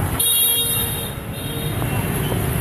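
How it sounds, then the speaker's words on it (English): Car horn honking in busy Hanoi Old Town street traffic, a loud bright toot near the start over a steady roar of passing vehicles, with a few fainter distant honks after it. "there's a lot of horn honking, that goes with driving"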